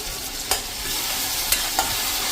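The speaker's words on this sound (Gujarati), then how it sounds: "હવે આપણે આ ટમેટાની જે પ્યુરી કરી છે ને 2 ટમેટાની એ નાખી દઈશું" Fresh tomato puree hits a pan of frying masala for sev tamatar curry, a continuous close sizzle broken by a few crisp clicks of a spoon stirring and scraping.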